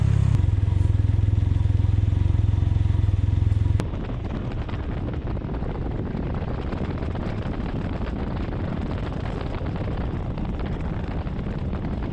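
A Can-Am Ryker three-wheeled motorcycle engine roars steadily at close range with heavy wind buffeting on a winter ride, dropping to a lower, steady drone after a few seconds.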